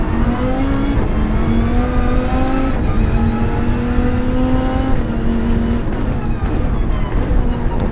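A 2015 Dodge Viper SRT GT3-R race car engine in the Gran Turismo 7 racing game drones loudly and steadily, pitch rising and falling through gear changes as the car is driven hard.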